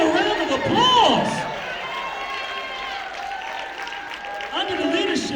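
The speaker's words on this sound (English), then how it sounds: "Let's give them a round of applause." Audience at a stage play applauding and cheering, a crowd roar with whoops and voices over scattered clapping, moderately loud and sustained.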